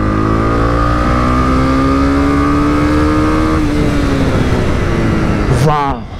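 A Honda CB300R motorcycle on a test ride accelerates hard, its engine note climbing steadily in pitch, loud and close, then shifting sharply near the end as it revs higher.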